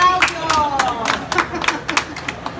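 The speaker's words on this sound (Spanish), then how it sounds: "¡Aplausos!" An audience in Havana, Cuba claps in brisk, uneven bursts for about three seconds. Excited voices and shouts ring out over the clapping, close and lively.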